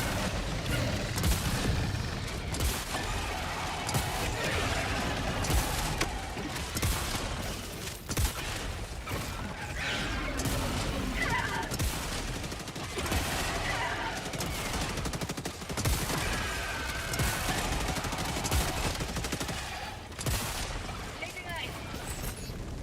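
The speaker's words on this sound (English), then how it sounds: "The incendiary shotgun also sets it on fire, by the way." Repeated booming blasts of an incendiary shotgun in the video game Helldivers 2 at Helldive difficulty, loud punchy shots spaced irregularly amid constant battle noise, with someone talking over much of it.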